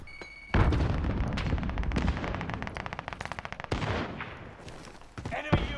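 Gunfire and a frag grenade blast in Call of Duty: Modern Warfare, with a loud boom followed by rapid automatic fire in quick bursts, then further heavy shots and impacts, busy and close.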